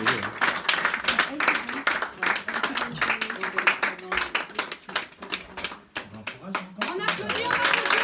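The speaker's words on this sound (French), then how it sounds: "On applaudit" Dense, steady clapping from an audience at a Toastmasters icebreaker speech carries on for the whole stretch, with only brief dips in loudness.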